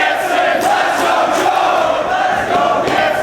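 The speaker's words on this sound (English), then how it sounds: "As the dueling chants go up once again here in Buffalo" A red-hot wrestling crowd in Buffalo roars during a match, voices merging into loud, continuous chanting and shouting that holds steady without pause.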